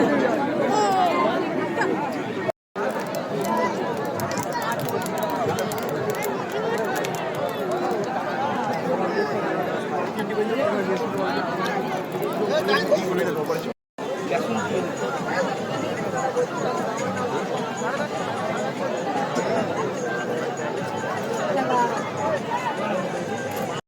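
Dense crowd chatter at a busy fish market crowded for Eid in Bakkhali, a steady babble of many overlapping voices close by, continuous apart from two brief cuts to silence.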